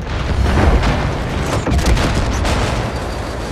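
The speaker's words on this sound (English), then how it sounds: "this time I'ma drop the bombs. One after the other." Bombs dropped from a plane exploding in Far Cry 5, a loud sustained rumble of heavy booms rolling into one another, dense and close, with no talking.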